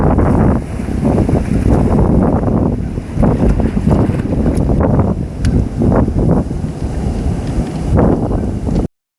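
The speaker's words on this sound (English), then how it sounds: "I know it's super windy." Strong wind buffets the microphone on a beach, a loud, steady roar with gusting surges throughout, with waves faintly present beneath the rumble.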